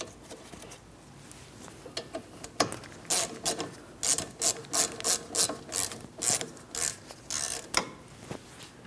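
A ratchet wrench tightens the rear brake caliper bracket bolts on a 2004-2008 Pontiac Grand Prix, with the bolts threaded and treated with blue thread locker. It gives a run of steady, evenly spaced clicking strokes, close and fairly loud, and no one speaks.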